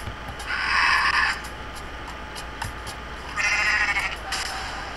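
A goat in the video game Goat Simulator bleats twice, two loud, wavering calls about two seconds apart over a steady game background.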